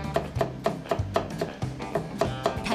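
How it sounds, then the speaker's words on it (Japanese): Rapid, regular chopping strokes of a heavy Chinese cleaver on a round wooden board in a kitchen, close and crisp, with repeating thuds in a steady rhythm. "巧みな包丁さばき"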